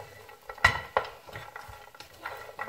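Popcorn is stirred in a hot pan to coat it in light caramel, giving soft scraping and clinking of a utensil against the metal pan in a few irregular strokes, faint and close, with no talk.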